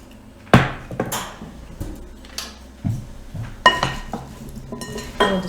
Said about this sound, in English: I'll mix it up and then add a little bit more so it doesn't all get stuck in one spot.